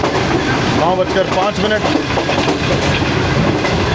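Shalimar Express passenger train with an old coach rolling along the rails on a hot day, steady loud rumble with clickety-clack wheel beats and squeaky metallic tones, a voice speaking briefly over it.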